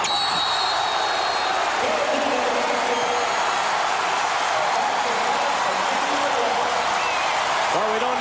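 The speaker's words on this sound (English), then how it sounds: "You can hear what's going on here behind us. A huge crowd." A huge arena crowd roars and cheers at a 1997 Kansas vs. Colorado college basketball game, a steady, dense wash of cheering noise that holds unbroken throughout, with faint tonal calls rising briefly within it.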